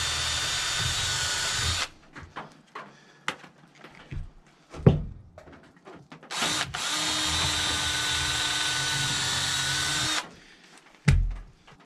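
Power drill running at a portable sawmill, with worn drill bits: two long, loud steady whirring runs separated by a quieter stretch of scattered knocks and clunks, then a short final burst.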